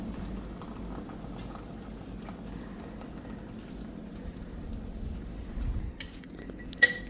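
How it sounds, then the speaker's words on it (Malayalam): Heated water pours steadily into a bowl, a soft continuous bubbling wash at low volume that swells slightly near the end before a single bright clink of glass or utensil. "ചൂടാക്കിയ വെള്ളം കൊണ്ടുവന്നൊരു ബൗളിലേക്ക് ഒഴിക്കുന്നു"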